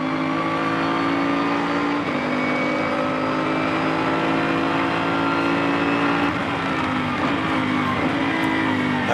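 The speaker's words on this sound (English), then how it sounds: "as we run on board with Guy Smith in the Bentley" A Bentley race car engine drones steadily, recorded on board during a Blancpain Endurance Series 1000 km race at the Nürburgring. The engine is loud and continuous with shifting pitch, and there is no talking.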